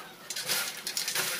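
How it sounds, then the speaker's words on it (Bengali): Crispy suji and potato bhujiya is tossed together in a pot, giving faint, quick rattling and clinking crunches in a few short bursts. "এবার সব একসাথে মিশিয়ে নেব"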